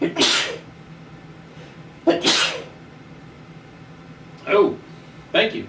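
Two loud sneezes a couple of seconds apart, followed by two quieter bursts, with a brief spoken reply in between.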